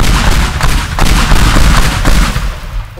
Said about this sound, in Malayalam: പടക്കം പൊട്ടിക്ക